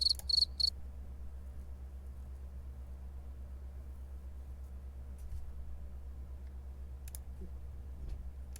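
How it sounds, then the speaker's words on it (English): Crickets chirp as a comedic sound effect: a few quick bright trills open the clip, then a faint low hum carries on and a couple of sparse chirps return near the end, with no one talking. "That deserves some more crickets."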